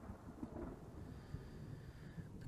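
Rolling thunder rumbles low and steady through a storm in the prison-building game Prison Architect, blended with rain, with a few slightly louder swells but no sharp crack.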